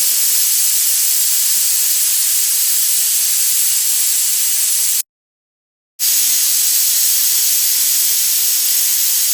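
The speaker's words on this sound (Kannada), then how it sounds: "cooker 3 whistle ಕೂಗುವವರೆಗೂ" A kitchen pressure cooker vents steam as a loud, constant close-up hiss, cut by a second of dead silence midway before resuming; no distinct whistle tone stands out and no one speaks.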